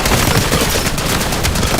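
Gunfire in Call of Duty Black Ops 7 survival mode, a loud, dense, continuous burst of rapid automatic shots filling the whole stretch without pause.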